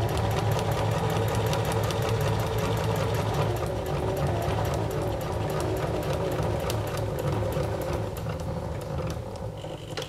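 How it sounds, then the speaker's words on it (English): A sewing machine stitching in reverse over the end of a seam on a drawstring bag. It makes a steady, rapid mechanical chatter up close and slows slightly near the end, with no talking. "we will need to reverse back over the end to seal that stitching"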